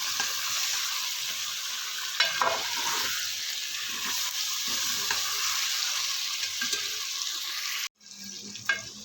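A steady, loud sizzle of ginger-garlic paste frying in hot oil for chicken karahi, with occasional stirring scrapes, briefly cutting out before resuming.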